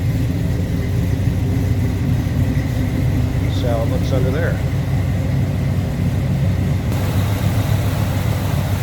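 A 1969 Chevrolet C10 pickup idles with its dual exhaust, a steady deep rumble that runs the whole time under someone talking nearby.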